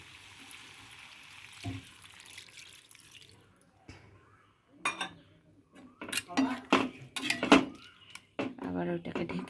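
A small amount of water is poured into a cooking pot with a soft, hissing trickle, followed by sharp metal clinks and clatter of the pot and utensils, close and moderately loud.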